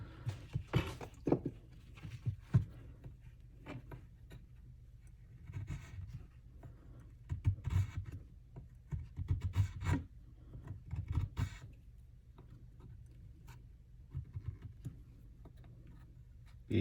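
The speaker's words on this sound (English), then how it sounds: "let's see if it can chisel some wood" Leatherman multi-tool gouging and scraping a piece of soft scrap wood, irregular close rasping scrapes and knocks in uneven bursts, with quiet pauses between strokes.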